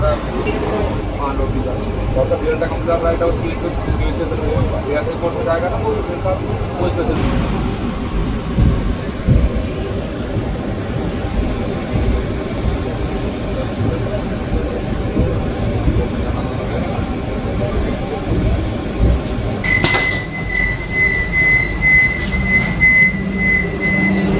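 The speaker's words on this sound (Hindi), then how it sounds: "ट्रेन अपनी उधमपुर में अराइवल ले रही है और आप जैसा सामने देख रहे होगे आपको पूरी ट्रेन आपको कर्व लेते हुए दिखाई दे रही होगी।" Vande Bharat Express train arriving at Udhampur station on the Jammu–Srinagar line, a steady rumble of rolling wheels and carriage noise heard from on board as it curves in, with a person talking over it and a high tone near the end.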